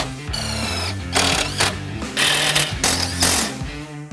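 A power tool drives a self-tapping screw into a Jeep JK during a steering kit install, running in several close, loud bursts of rapid buzzing with short pauses between them and no voices.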